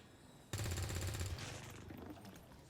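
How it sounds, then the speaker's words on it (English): Automatic weapon fire in XCOM 2: Long War: a loud, sudden rapid burst of shots that cuts in sharply, then rings out and fades into a decaying tail, with no talk. "Let's take another shot."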